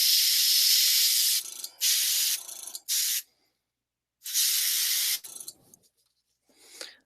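An aerosol can sprays paint onto a miniature in several loud, close hissing bursts of varying length, separated by silent pauses, with a fainter short spurt at the end.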